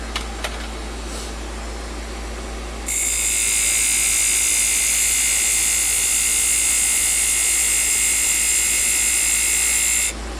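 A wood lathe turning a chess rook hums with a low motor drone, then a high, steady shrill whine starts as a tool cuts the spinning piece, holding loud and continuous for several seconds before stopping abruptly.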